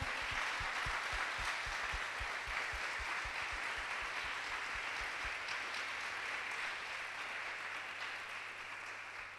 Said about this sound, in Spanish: Le damos ese aplauso a Jesús por todo lo que nos está enseñando.